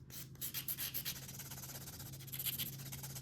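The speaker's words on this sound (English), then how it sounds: "I am just going to drill this design off so we can start with the next design" An electric nail drill grinds a gel nail design off with continuous rhythmic rubbing strokes over a steady low motor hum, close and moderately loud.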